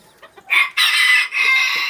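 Fancy-breed chickens cluck and crow close by on a farm: a couple of soft clucks, then loud drawn-out crowing calls in quick succession with brief breaks between them.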